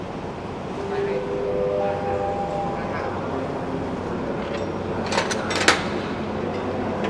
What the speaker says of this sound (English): It's the train that is actually going to Lopburi.